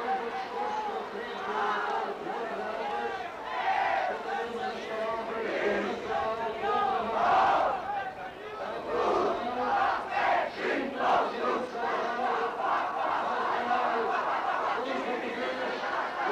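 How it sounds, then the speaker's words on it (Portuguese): A vast crowd at a patriotic demonstration in Lisbon cheers and shouts in rolling waves, a distant, reverberant roar of many voices with applause blended underneath. "Centenas de milhares de pessoas continuam com os seus vivos e com os seus aplausos a manifestar-se calorosamente nesta jornada histórica"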